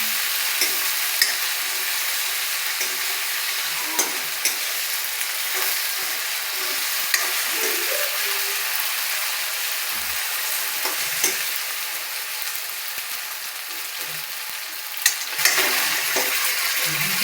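A Gujarati Maggi rice dish is stirred in a frying pan, giving a continuous loud sizzle with soft scraping and clicking spoon strokes throughout, without any voices.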